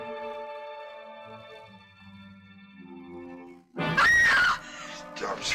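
A woman lets out a single loud, piercing scream near the end of a dramatic horror film scene, bursting in after tense orchestral music.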